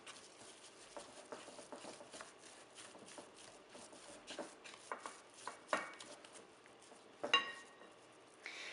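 Arepa dough being mixed and kneaded by hand, soft squishing pats and scattered slaps in an irregular rhythm, close and quiet, with a few sharper thuds near the end.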